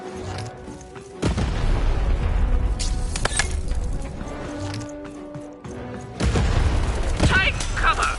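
Cannon fire in the video game Lost in Random, repeated deep booming blasts with rumbling decay amid clattering game effects and some speech.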